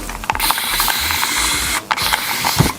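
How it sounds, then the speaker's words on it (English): A spray bottle of water mixed with conditioner mists a curly lace wig in quick hissing bursts with clicking trigger pulls, close and loud, no talking. "Just gonna spray the hair down."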